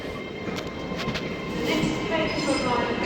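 An Azuma train passes at a station platform, a steady loud rumble of wheels and carriages that swells slightly as it goes by, with faint voices nearby.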